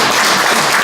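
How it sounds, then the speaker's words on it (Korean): A brief burst of dense audience applause at a Korean lecture, loud and continuous with no talking over it. "박수를 한번 치시죠."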